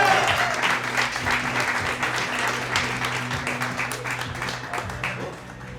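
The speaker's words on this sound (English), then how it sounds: "make some noise for the one, the only, Mr. Alden Schaub!" Jazz club audience in Austin, Texas applauding a comedian: steady, dense clapping from a crowd that fills the room and tapers off slightly toward the end.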